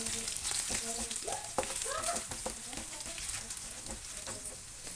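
Kashmiri chili powder frying in oil for a Kerala lemon pickle, a soft steady sizzle with light stirring scrapes, close and fairly quiet, no talk.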